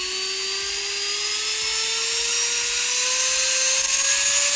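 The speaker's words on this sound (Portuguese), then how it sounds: "Eu vou ligar aqui a Dremel e vamos ver." A Dremel rotary tool powered by a pure sine wave inverter runs at speed, a loud, close, steady high-pitched whine that rises gradually in pitch as the power is turned up.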